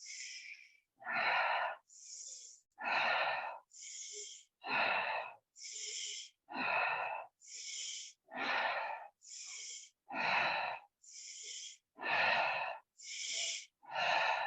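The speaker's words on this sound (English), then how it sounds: "Move into the short breaths." Short, rapid breathing exercise in a fitness class: forceful nasal breaths repeat in a steady, even rhythm, about one per second, loud and close with no talking.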